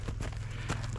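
Horses walking along a road in western Sweden, their hooves producing steady, fairly close clip-clops over a continuous low rumble, with no voices.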